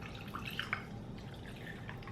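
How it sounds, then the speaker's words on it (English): Lavender peppermint iced tea is poured into a cup, a soft close trickle of liquid with a few splashy drips over a low steady background. "But I'll just pour some in a cup."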